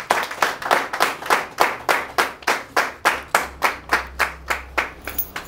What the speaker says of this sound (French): que je vous demande d'applaudir en signe de gratitude symbolique